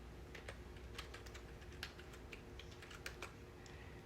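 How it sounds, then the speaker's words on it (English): Rapid, uneven keystrokes on a computer keyboard as C code is typed, close and clear with short bursts and pauses, no talking. "we're going to type int main"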